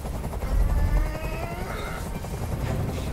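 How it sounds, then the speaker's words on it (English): A helicopter rumbles loudly overhead, its low throbbing drone steady and close with a faint higher whine above it. "I can't stand that noise anymore! Tell that helicopter to get out of here!"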